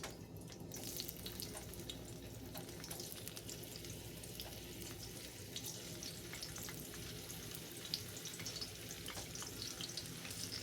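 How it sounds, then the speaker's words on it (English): Home-canned potatoes fry in hot oil in a skillet, giving a steady, close sizzle with fine crackling and spattering that runs unbroken throughout, with no voices. "wait for my oil to get hot, and then we'll be ready to fry those potatoes"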